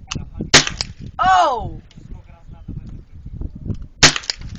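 Rifle shots fired at clay targets outdoors, two sharp loud cracks about three and a half seconds apart, with a brief exclaimed voice between them.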